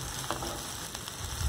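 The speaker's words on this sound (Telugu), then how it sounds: "ఇప్పుడు అల్లం వెల్లుల్లి పేస్ట్ 1 టేబుల్ స్పూన్ వేసుకోవాలి. ఆయిల్లో ఫ్రై అయ్యేలాగా గరిటతోటి ఒకసారి విధంగా కలుపుకోవాలి." Ginger garlic paste frying in oil in a pan for a dhaba-style egg masala curry, stirred once with a ladle; a close, continuous sizzle with soft scraping, no talk.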